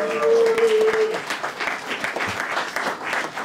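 Live audience at a German podcast recording breaks into dense, sustained applause, a steady wash of clapping that stays loud throughout with a brief tonal note near the start.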